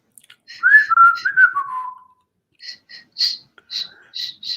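A person whistles a short falling tune, then after a brief pause gives several breathy, airy whistle attempts, near and fairly loud.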